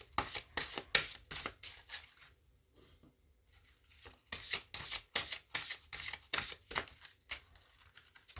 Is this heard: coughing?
no